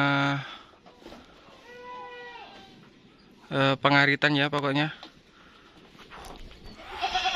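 Several village goats bleat loudly in a cluster of wavering calls near the pens on a remote hillside settlement, with a faint bleat before and people talking in between.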